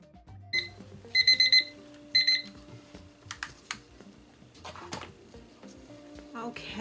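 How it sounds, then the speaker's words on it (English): A kitchen timer alarm goes off with several short bursts of high electronic beeps, set during resin mixing for coaster making, alongside clicking and handling noises on a work surface. "we're going to turn on our timer"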